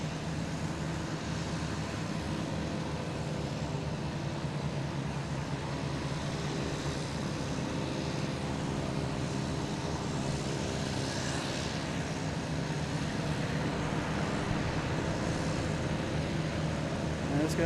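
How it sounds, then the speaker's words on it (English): A Delta Airbus A220 jet arrives at Boston Logan airport, its engines a continuous broad roar that holds steady throughout, with faint outdoor traffic noise beneath. "I've got an A220 Delta coming in from Chicago."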